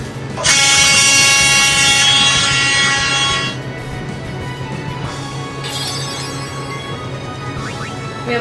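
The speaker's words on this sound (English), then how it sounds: "Can't find the right air horn, so I'll just use the reggae air horn" A loud, sustained truck air horn blares for about three seconds, then cuts off, followed by a shorter, quieter horn blast.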